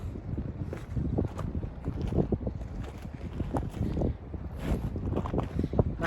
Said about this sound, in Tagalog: Mahangin din eh